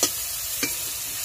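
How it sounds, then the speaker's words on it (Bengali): A curry base of whole cumin, onion and ginger-garlic paste stirred in a hot pan, two quick spoon scrapes over a low continuous sizzle, close and without talk. "নাড়াচাড়া দিচ্ছি।"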